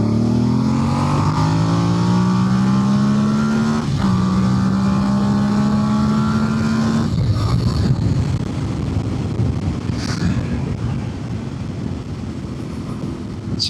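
Voge DS800X Rally and DS900X motorcycles accelerating hard from about 30 in third gear, engines climbing steadily in pitch with a shift midway, then a loud broad roar with wind noise, close and continuous.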